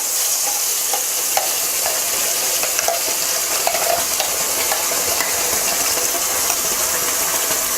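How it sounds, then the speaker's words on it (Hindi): Spice masala paste frying and being stirred in a pan for restaurant-style palak paneer, a steady close sizzle with scattered scraping taps of the spoon throughout, no talking. "फिर इसमें डाल देंगे हम हमारा बीट किया हुआ मसाला"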